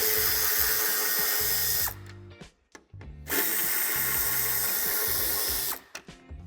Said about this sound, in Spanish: Quitaremos los dos tornillos de Tor de 20.